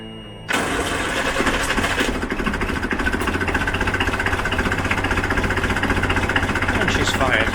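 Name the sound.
boat diesel engine starting and idling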